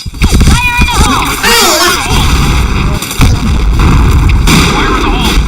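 Grenade explosions in a video game, loud booming blasts and bursts in quick succession with crackling debris, a voice shouting over the din.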